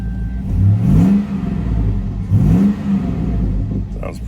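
A 2003 Chevy Tahoe engine heard through an open 2.5-inch electric exhaust cutout, blipped twice in short throaty revs that swell and fade over a rumbling idle, close and loud.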